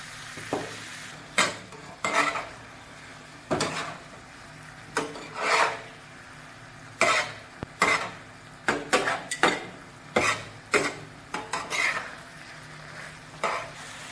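Chicken liver (kaleji) fries on a tawa with green chillies, a low sizzle under repeated sharp clanks and scrapes of a metal spoon stirring against the pan.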